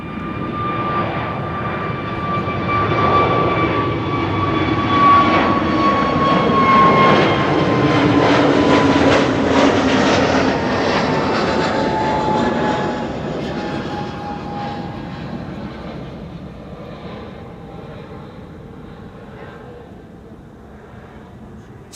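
A KLM jet airliner departing Amsterdam Schiphol's Kaagbaan runway for London Heathrow roars past, swelling to a loud peak mid-pass then slowly fading into a distant rumble, with rising and falling engine whine.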